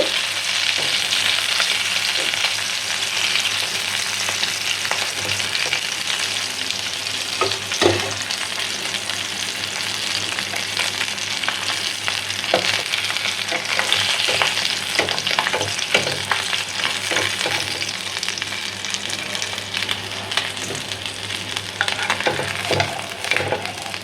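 Pabda fish frying in a pan of hot oil, a steady loud sizzle with occasional pops and scrapes of a stirring spatula, continuous throughout with no talking.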